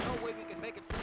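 Gunfire from a PlayStation 2 video game, a short burst of shots over a steady game soundtrack with a sustained tone, ending in a louder blast near the close.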